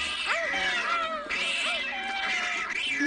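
Cartoon cat caterwauling in a series of rising and falling wails, loud and close, with no talk over it.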